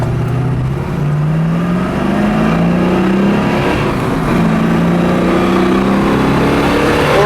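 A 1970 Ford Mustang Boss 302 V8 pulling steadily under acceleration, its loud engine drone rising in pitch through the gears as heard from inside the car, no talk.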